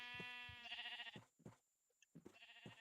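Sheep bleating in Minecraft, several nasal wavering bleats in quick succession, fairly close and clear, with short gaps and soft clicks between calls.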